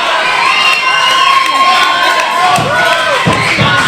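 A Houston wrestling crowd at a 1CW championship match roars and cheers continuously, loud and dense, with shouts and a few thuds breaking through the sustained noise.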